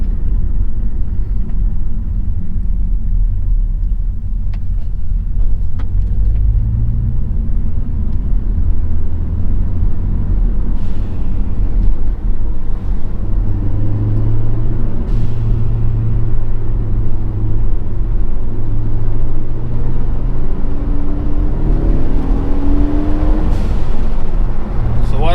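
A Ford Focus ST fitted with an upgraded air filter accelerates, a loud steady engine rumble and drone rising in pitch through the run, with faint talk in the background.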